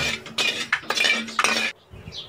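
Sugar stirred into a pan for an Eid orange-delight sweet, heard as close, continuous scraping and clinking of a spoon against metal in bursts, then a brief quieter pause at the end.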